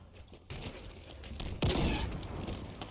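Bursts of rapid gunfire in a video game on a Forge map, dense and fairly faint, with a sharper, louder volley partway through.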